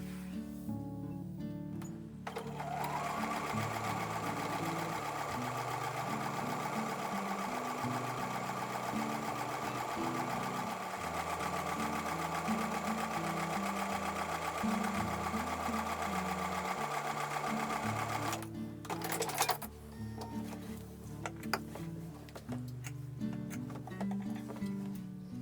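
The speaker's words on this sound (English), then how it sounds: "when I take it to the sewing machine, I'm going to sew a 1/4 inch seam on both sides of the line" A sewing machine stitches a quarter-inch seam on a flying geese quilt block, running in a steady fast whir for about sixteen seconds, then stopping and restarting briefly, close and alone.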